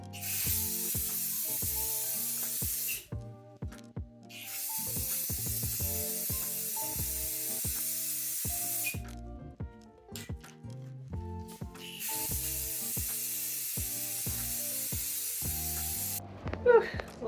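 A spray can hisses out paint onto a cast iron radiator in three long, sustained bursts with pauses between, close by, while a distinct rhythmic musical backing plays underneath.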